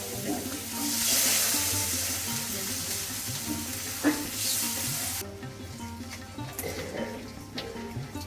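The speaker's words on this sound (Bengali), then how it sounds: "মশলা কষানো হয়ে গেছে, এবার জল দিয়ে দিচ্ছি।" Water poured into spices frying in a pan, a strong hissing sizzle that swells and then abruptly drops to a softer bubbling crackle, with a few clinks, close by.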